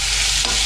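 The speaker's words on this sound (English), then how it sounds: "So now we now need to let that lamb sear off on all sides" Lamb or mutton searing in a hot pan for a Welsh oggie pasty, a loud, dense, continuous sizzle close up, with no talking.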